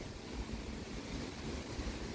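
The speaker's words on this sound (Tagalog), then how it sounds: "Lakas ng hangin." Strong wind blows outdoors near a kangkong patch, giving a continuous broadband rush and buffeting against the microphone throughout, moderately quiet with no talking.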